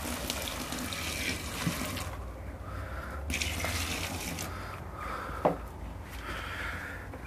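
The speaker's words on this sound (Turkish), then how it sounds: "Su ilave ediyoruz." Water pours steadily from a tap into pansy and primula seed-sowing mix, a continuous hissing, splashing flow at close range with slight changes in tone.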